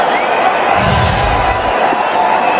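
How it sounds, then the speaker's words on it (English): A cricket stadium crowd roars and cheers after a big six during a Rohit Sharma double-century match, a broad swell of voices rising in the middle and then easing, with commentary over the top. "Just all the crowd are on their feet"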